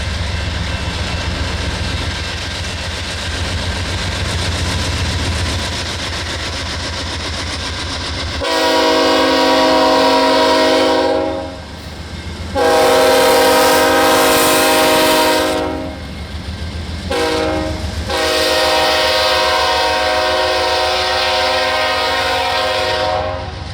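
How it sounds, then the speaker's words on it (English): A train passes on the adjacent track near Beaverton, Alabama, with a loud, close horn sounding in several long blasts over a steady rolling rumble. "Here's the train from coming the other way on the other track."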